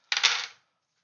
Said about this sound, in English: Losing dice all over the place.